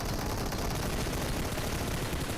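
Gunfire in the BGMI mobile game on a Poco F1: a dense, unbroken wall of rapid shots, loud and harsh, with no pause across the short stretch.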